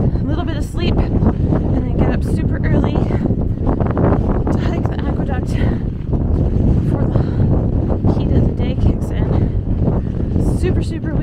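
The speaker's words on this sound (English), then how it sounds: "super, super windy here tonight" Strong, steady wind roars and buffets the microphone throughout at night on the Pacific Crest Trail, a loud continuous rush with gusty low rumble and no pauses.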